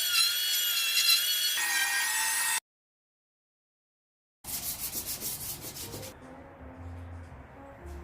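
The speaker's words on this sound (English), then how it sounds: "The dreaded sanding begins" Wood strips for a study desk being sanded, a steady rasping scrub that runs about two and a half seconds, breaks into a pause of near silence, then resumes with a rougher, brighter rhythmic rubbing that fades toward the end.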